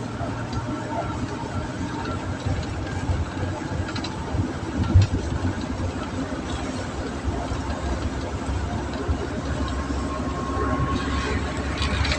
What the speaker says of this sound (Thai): ใช่แล้ว มีรถไฟ